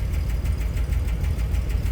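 A 1964 Chevrolet Corvair 900 engine idles just after starting, a steady, close, low rumble with an even pulsing beat and no voices over it.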